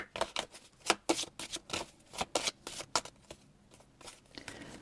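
A deck of tarot cards shuffled by hand in a series of quick riffling bursts with brief pauses, close and fairly quiet, with no talking over it.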